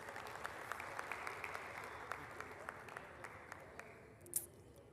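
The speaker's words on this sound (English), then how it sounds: "Please give her another round of applause" Audience applause at a business forum for a woman minister, a fairly quiet, steady patter of many hands with a few sharper individual claps and a brief louder burst near the end.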